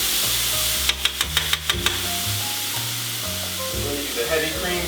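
A tablespoon of black garlic is stirred in a hot oiled pan, crackling and sizzling steadily beneath a quick run of about seven sharp utensil taps against the pan, followed by softer scraping.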